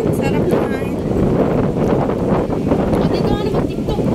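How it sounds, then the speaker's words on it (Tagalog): Strong sea wind buffets the microphone outdoors on the waterfront at VivoCity, Singapore, a steady loud rush filling the whole stretch, with people talking over it. "Ala, ang hangin. Sarap na hangin."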